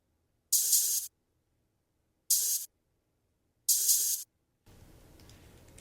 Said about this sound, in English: I added this open hat.